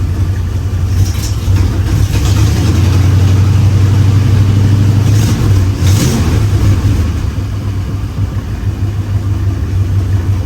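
Chevy Bel Air with a 265 V8 running loud and close while the car creeps along, its low engine drone swelling under throttle and then settling into a steady rumble.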